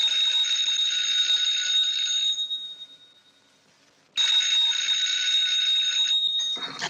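An old-fashioned telephone bell rings at night inside a house in the 1940s, a loud continuous electric ring that pauses for about two seconds and then resumes before cutting off.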